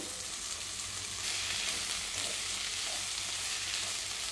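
Fried okra tipped into a simmering curry in a pan sets off a steady, loud sizzle and hiss that holds evenly for several seconds with light stirring underneath.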